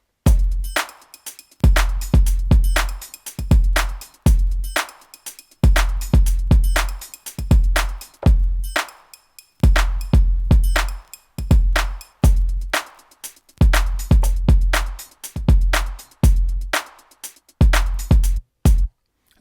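A sampled drum kit in Kontakt 5 plays through patterns, with punchy kicks and snappy hits grouped into repeating rhythmic bars and brief gaps between phrases, loud and dry, without any voices.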